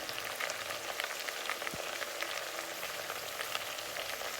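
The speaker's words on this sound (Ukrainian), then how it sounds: "поки тушиться цибуля" Onion stews in a pan with a quiet, even sizzle and light crackle, close by but faint, with no voices.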